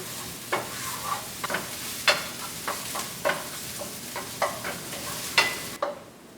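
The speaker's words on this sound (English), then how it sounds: "Just give it a stir and cook it for about 2 to 3 minutes until it's shiny" Chopped shallot sizzles in oil for risotto as a spoon stirs it, steady frying broken by regular clicking scrapes about every half second before a sudden stop.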